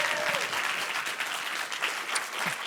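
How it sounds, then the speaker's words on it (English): An audience at a collegiate championship finals event applauds steadily, a dense, fairly loud wash of clapping throughout with faint voices mixed in. "Can we give them a round of applause?"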